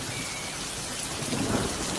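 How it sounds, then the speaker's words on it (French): Violent thunderstorm with heavy rain pouring steadily on surfaces and thunder rumbling, building slightly louder toward the end, with no voices. "Les tempêtes ici sont assez violentes."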